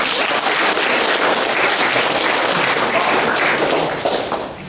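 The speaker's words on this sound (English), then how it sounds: "round of applause to everyone for it" School leavers' assembly audience giving dense, sustained applause, close and loud, that starts to thin out and fade in the last second.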